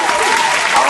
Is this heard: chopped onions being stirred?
no